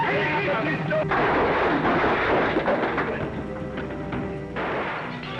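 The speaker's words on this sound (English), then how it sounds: "Who shot out that lamp?" A gunshot in a 1940s western, a sharp report fired at a lamp, lands under dense, continuous noise of music and scene ambience, not standing out clearly as a single isolated crack.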